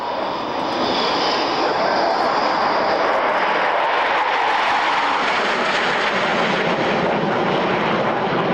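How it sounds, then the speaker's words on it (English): A Hawker Hunter jet of the Patrouille Suisse roars past at an air show, a loud, sustained engine rush that swells in quickly and holds steady with broadband jet noise. "the Hawker Hunter, which he describes as the most wonderful jet plane to fly"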